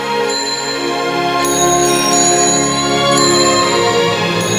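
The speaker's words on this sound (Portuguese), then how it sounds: "O som dos sininhos dava a velocidade da bola." Small bells spaced along an inclined plane ring one after another as balls roll down it, giving clear, sustained metallic tones with fresh strikes layering over the lingering ring, loud and close with no talk.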